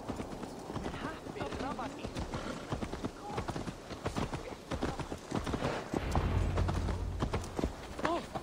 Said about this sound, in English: Let's return the horse.